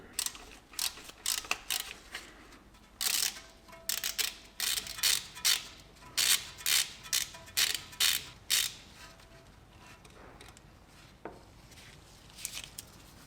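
A tool turning out the small ABS wheel speed sensor screw on an Audi or VW hub, giving a long run of quick, close mechanical ratcheting clicks in bursts, with no talking.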